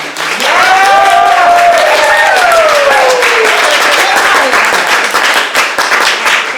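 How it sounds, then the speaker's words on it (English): Loud, dense applause and cheering welcome a guest performer at an evening show, sustained throughout, with voices calling out over the clapping. "Please give an enormous round of welcoming applause for Mira Cameron."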